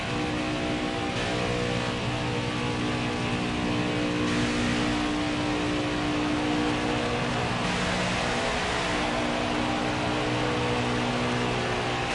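NASCAR Craftsman Truck Series race trucks racing at Talladega Superspeedway, a continuous loud engine roar with recurring swells as the pack passes, heard throughout without a break.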